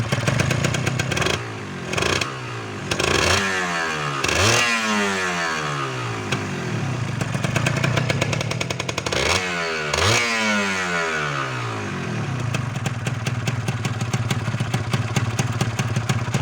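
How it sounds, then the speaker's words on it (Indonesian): Kawasaki Ninja 150 SS two-stroke motorcycle engine on its stock exhaust, idling with a buzzy, steady tone and blipped several times into sharp rising revs that fall back, heard up close. "Suara mesinnya masih halus banget."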